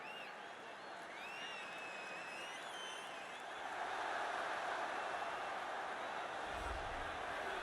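Arena crowd in the UFC 3 fighting game cheering as a fighter makes the walk, a broad steady roar that swells louder midway, with faint whistles early on and a commentator's voice beneath.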